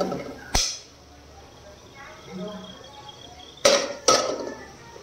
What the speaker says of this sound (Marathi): ते मी आता गरम झालेल्या तेलामध्ये टाकते।